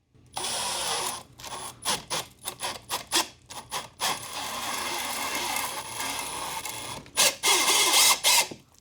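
Star-M countersink bit driven by a Makita drill boring into wood, heard as a run of short, bursty grinding cuts with brief pauses between them, then a stretch of steady cutting, close and fairly loud.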